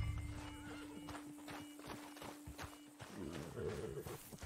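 Horse hooves clip-clop in a steady walking rhythm against a continuous hum in a Red Dead video game, with a horse whinnying briefly near the end.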